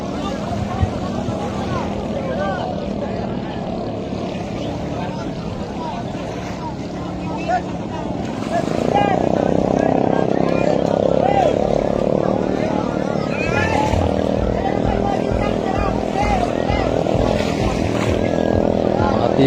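A racing boat engine drones steadily during a boat race, growing louder and fuller about halfway through, while a commentator talks over it.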